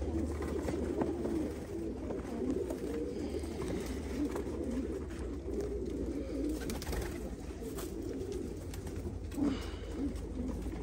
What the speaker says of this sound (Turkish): Güzel bir çift. Polski, kara kanat.